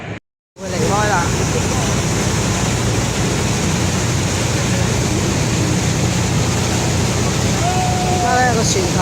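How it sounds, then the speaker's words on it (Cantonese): A tour boat turns back on the river below Niagara Falls in heavy wind and rain, a continuous loud rush of wind and water noise dominating throughout, with a brief voice near the start. "而家咧個船頭變咗個船尾，咁咧一路咧就會翻返回航"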